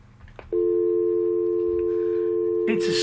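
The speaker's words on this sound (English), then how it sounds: "It's a slightly different dial tone." A new digital landline telephone gives a dial tone: a loud, steady, clean electronic hum that starts abruptly after a faint click and runs on, with a brief clatter of handling near the end.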